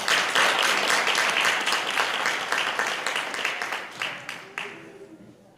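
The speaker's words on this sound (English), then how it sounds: "Big round of applause for Ms. Kelly." Audience applause at a school board of education meeting, steady dense clapping from a room of people that thins and fades near the end, with one late burst of claps.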